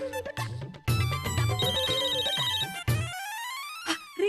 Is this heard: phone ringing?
yes